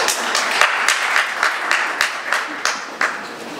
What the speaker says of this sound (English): Please do not clap.